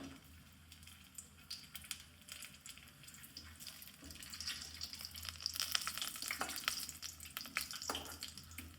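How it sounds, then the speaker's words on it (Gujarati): Dried garlic frying in hot oil for a village-style whole garlic curry, giving a soft, steady crackling sizzle that grows a little louder midway, with no talking. "સૂકું લસણ જે આપણે તેલમાં ફ્રાય કરી દઈશું"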